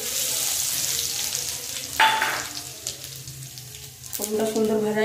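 Bay leaf and whole cumin dropped into hot oil in a kadai crackle and sizzle up close, with a sharp burst of frying when added and stirring over a steady hiss.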